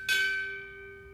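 A ship's bell is struck at a Navy chief petty officer pinning ceremony, a single clear metallic strike that rings on with a long, slowly fading tone in a quiet room.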